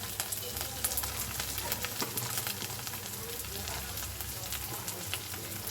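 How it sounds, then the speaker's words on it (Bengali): Onion frying in oil with ginger garlic paste and turmeric for a prawn dish, giving a dense, steady close sizzle with faint crackles and light stirring throughout, and no distinct voices. "পেঁয়াজটা আমার হালকা ভাজা হয়ে এসছে, এর মধ্যে আমি দিয়ে দেবো ছোটো 1 চামচ আদা রসুন বাটাটা"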